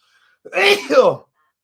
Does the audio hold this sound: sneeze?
yes